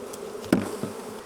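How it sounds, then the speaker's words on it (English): Bees being tapped out of a hive box during a drone-laying queen fix: a steady insect buzz with one sharp knock on the box and a fainter tap after it. "So now we're going to tap the bees out of this box."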